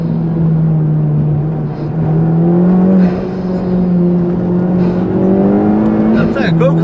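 A Honda Civic Type-R FK2 engine hums loudly and steadily at close range with its intake noise, the pitch wavering slightly and dipping near the end.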